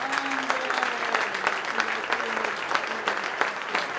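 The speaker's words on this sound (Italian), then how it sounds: "Ancora un applauso." A crowd at a football award ceremony in Olbia applauds, a dense, continuous clatter of clapping, while a presenter's voice carries over it.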